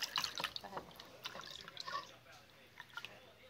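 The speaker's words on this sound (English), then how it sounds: "in a small bowl, I'm going to mix a cup of water" A cup of water is poured into a small bowl to start a slime mix, giving faint splashing and dripping that trail off, while people talk over it.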